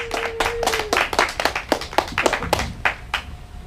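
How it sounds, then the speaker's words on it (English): Scattered hand claps from a small comedy show audience, uneven and sparse, with a brief tonal tone at the start. "Let's give him a nice round of applause."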